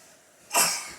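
A single short, breathy cough bursts out close up after a moment of quiet room hiss, then trails off.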